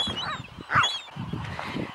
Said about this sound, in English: Nope. It's just a seagull.